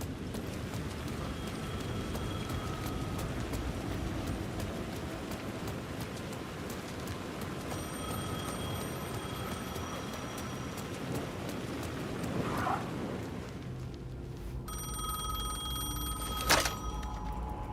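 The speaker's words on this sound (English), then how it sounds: "The phone was ringing again." Telephone ringing in Alan Wake 2, faint repeated rings over a steady rain-like background, with a louder sharp ring near the end.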